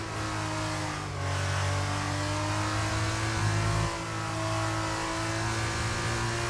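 A Formula 1 race car engine in the racing game F1 23 accelerates with a steady high-pitched whine that rises through the gears, continuous and close with no talking.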